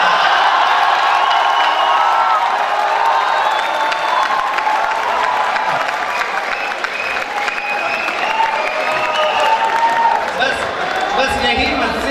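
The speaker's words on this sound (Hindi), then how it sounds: "आप लोग खूब घनघोर तालियां बजाइएगा।" Dense, sustained clapping from a large audience at a Hindi comic poetry gathering fills the whole stretch, with scattered cheers and whoops mixed into the steady roar.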